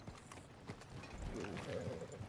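Horse hooves clip-clop in a steady rhythm in the video game Red Dead Redemption 2, quiet and a little distant, with soft game ambience and faint voices beneath.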